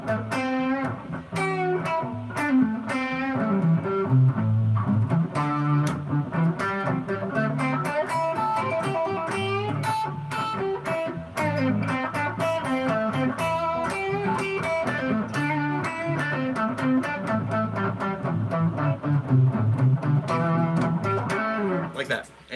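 Distorted electric guitar working through a 12-bar blues progression, strummed chords changing in steady rhythm, moderately loud and close with no talk over the playing.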